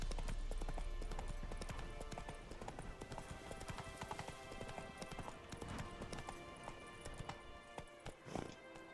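Hoofbeats of the horse Roach in The Witcher 3, a fast, steady clip-clop of galloping hooves throughout, with a game soundscape underneath and faint speech.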